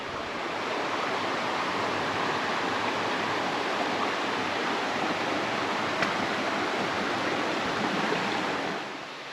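Steady rushing water fills the scene, a continuous broad roar of a creek flowing close by on a hiking trail to Devil's Bathtub, with no breaks or voices.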